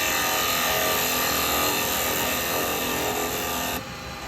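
A bevelled edge tool pares into wood with a loud, steady scraping and shaving rasp held close up, easing slightly near the end.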